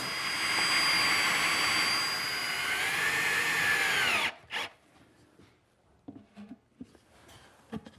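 A power tool drives screws into a wooden box in a workshop, a loud sustained whine that rises and falls in pitch for several seconds, then cuts off abruptly, followed by a few brief knocks and handling clicks.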